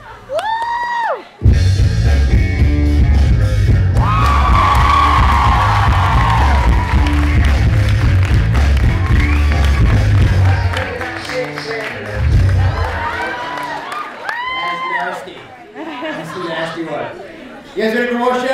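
An audience cheers, whoops and claps at a magic show after the finish of a trick, a loud sustained crowd roar with scattered shouts, with a voice speaking briefly before and after.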